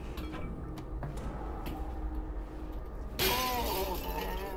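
Glass shatters in the Half-Life: Alyx video game as a sudden bright crash, preceded by faint scattered ticks over a low ambient hum. Tinkling debris rings on afterward.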